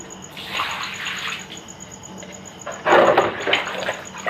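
Water is poured and splashed at the gate of a crab pond before the pond is cleaned, a rushing, gurgling flow that swells midway and surges louder toward the end, close by with no speech.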